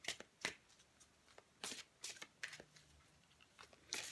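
Oracle cards are shuffled by hand for a reading, making a series of quick, crisp riffles and soft slaps close up, with short pauses between bursts.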